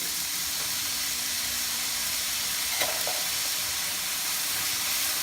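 Minced garlic sizzles in a hot pan with onions for kalderetang bangus, a steady, dense hiss of frying that holds throughout with a faint clink partway through, no voices.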